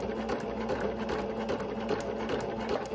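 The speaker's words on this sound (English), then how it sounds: "I'm going to go ahead and finish sewing this." A sewing machine runs continuously up close, stitching glitter ribbon ruffles onto tutu socks with a fast, even mechanical chatter.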